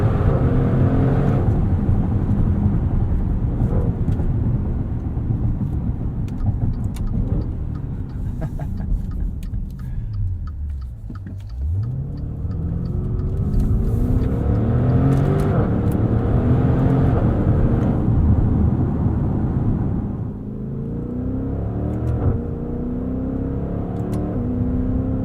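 A 2021 Maserati SUV's engine revs up and down in manual mode as paddle shifts change gears, a loud continuous drone rising and falling with one deep dip and recovery midway.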